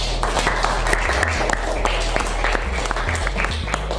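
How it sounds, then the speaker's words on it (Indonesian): A school class claps for a group of students, a dense, moderately loud stream of hand claps over a steady low hum, with scattered sharper hits throughout. "Tepuk tangan untuk kelompok 3."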